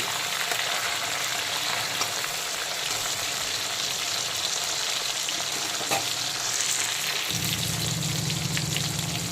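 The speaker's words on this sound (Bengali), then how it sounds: "এখন পমফ্রেট মাছের উল্টো দিকটাকেও একইভাবে ভালো করে ভেজে নেব।" Pomfret fish fries in hot oil after being turned over, giving a continuous crackling sizzle with faint spatters, a soft clink and a low hum joining near the end, with no talking.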